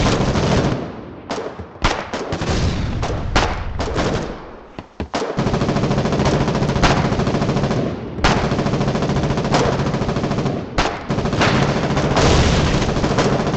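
Sustained machine gun fire in the video game Foxhole, loud, dense rapid bursts that run nearly nonstop, with a few brief pauses early on before the firing continues unbroken.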